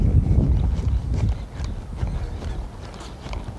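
Hooves of a horse being turned around under saddle, a string of dull, close clip-clop steps on soft ground that shift rhythm partway through, fairly loud with no talk.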